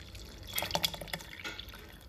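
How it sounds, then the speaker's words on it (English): Boiled milk poured into mango pulp in a mixer jar, giving soft dripping and splashing liquid sounds, brief and close, with no voices. "I'll be adding my boiled milk into the mango pulp."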